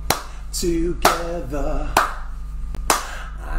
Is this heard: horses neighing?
no